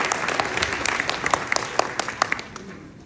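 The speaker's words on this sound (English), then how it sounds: "Give them a round of applause." Audience applause for a student crew after a December Mother Goose in Toyland show, a dense wash of many clapping hands with sharper individual claps standing out, fairly near and sustained before gradually thinning toward the end.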